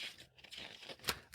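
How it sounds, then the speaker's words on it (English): Tarot cards are flipped through in a hand shuffle, giving close, papery rustles and soft snaps in an uneven run with one sharper card flick near the end, with no talking. "I'm doing the old just flip through shuffle here."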